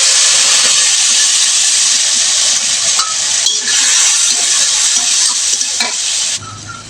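Chili, ginger and cumin paste sizzles and fries steadily in a hot pan for a rohu fish curry with potato and eggplant, a loud continuous hiss with occasional stirring scrapes, easing off near the end.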